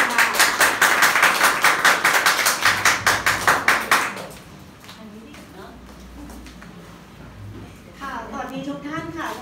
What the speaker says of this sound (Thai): ขอเสียงปรบมือให้วิทยากรเลยค่ะ